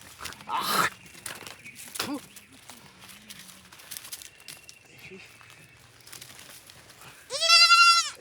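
A goat bleats loudly near the end with a shaky, wavering cry, after scattered voices and some shuffling sounds.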